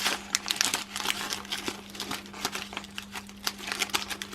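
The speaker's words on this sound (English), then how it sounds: "take the little bit of ribbon like that, put that round, fold that in half" Ribbon for a Christmas holly ring crinkles and rustles as it is folded and handled close by, a continuous run of small papery crackles with a faint steady hum underneath.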